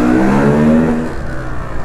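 KTM EXC 125 motorcycle engine revving inside a tunnel, loud and close, with a strong buzzing tone that climbs and then eases off as the revs drop.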